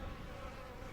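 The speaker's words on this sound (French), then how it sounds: "Ces insectes minuscules semblent être des hybrides de fourmis et de sauterelles" Tiny insects that look like ant and grasshopper hybrids buzz in a dense, continuous swarm drone, steady and close, with no talking.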